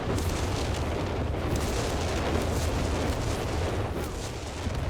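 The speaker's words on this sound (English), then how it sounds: "here comes one of those walking Stukas targeting the retreat bunker" A walking Stuka rocket barrage pounds a retreat bunker in a Company of Heroes 3 battle, producing a dense, continuous roar of overlapping explosions at steady loudness with no clear gaps.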